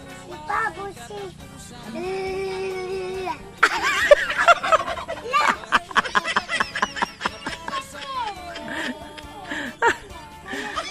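A turkey on a rural Philippine farm gobbles in several short bursts, mixed with other fowl calls and a child's laughter, while people talk nearby throughout.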